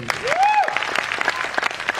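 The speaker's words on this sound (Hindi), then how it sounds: "एक बार जोरदार तालियां।" A crowd at a business team event breaks into loud clapping, a dense burst of handclaps with a short whistle-like tone near the beginning, heard up close for a couple of seconds.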